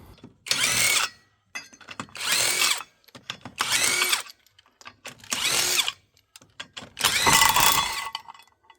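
Wheel bolts come off a VW T4 van under a power tool in five separate loud whirring bursts, each about a second long with short quiet gaps, the last burst slightly longer.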